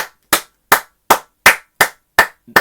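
A person claps hands alone in a quiet studio, seven sharp, loud claps at a steady, deliberate pace with silence between them.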